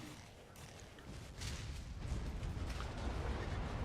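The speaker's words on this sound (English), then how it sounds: "we're going to open fire with the medium lasers" Medium lasers fired by a light Spider mech in the Battletech video game, a rumbling burst of weapon fire that swells after the first second and holds steady and loud to the end.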